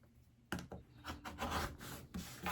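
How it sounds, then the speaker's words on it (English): A blade is drawn along a ruler to trim a stitched leather wallet panel, making close, soft scraping and rubbing strokes after a brief quiet start. "I'm just going to take my ruler and trim up the side that I stitched down"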